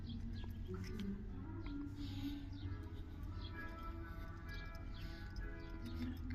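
Small birds chirp and tweet in short repeated calls over a low background rumble, faint and somewhat distant.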